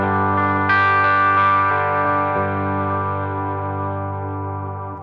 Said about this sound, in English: This is on the clean bridge pickup.